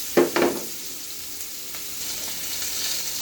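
Hilsa fish frying in hot oil, a continuous close hiss and sizzle that opens with two sharp spatters, then settles into a steady crackle with no voices.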